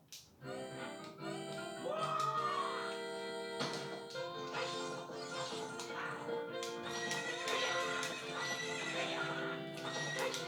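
A horse in the Zelda Ocarina of Time video game gives a loud, clear whinny, followed by steady clip-clopping hooves and game music, with no voices over it.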